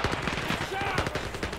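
Rapid gunshots from the VR shooter game Zero Caliber, a quick close run of sharp cracks fired in a tight string over a brief moment.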